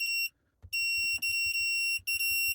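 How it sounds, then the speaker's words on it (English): A reversing camera display beeps sharply while its settings are changed: several long, piercing electronic tones, loud and close, broken by brief gaps, with soft button-press thumps underneath. "That's the most annoying beep ever."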